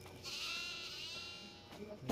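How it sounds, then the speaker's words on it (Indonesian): A goat in the horror game Devour lets out a drawn-out, wavering bleat. It sounds faint and distant, with a brief thump at the end. "Apa, apa benda tu? Kambing."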